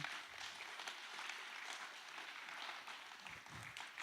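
A church congregation applauds, a faint wash of many hands clapping heard from a distance, continuous and even with no voices on top.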